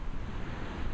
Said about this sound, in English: If we look down at the edge of the shore, we see waves and solid rock.